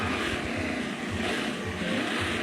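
A Nissan GT-R revs hard under full throttle in a video game, a steady loud engine roar with pulsing low rumble running continuously.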